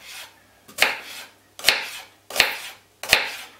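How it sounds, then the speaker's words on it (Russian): A knife chopping an onion on a board, four separate heavy strokes spaced roughly evenly about a second apart, each a sharp close knock with a short scraping tail, with nothing else sounding around them. "И сейчас вместе с вами я порежу за кадром лук"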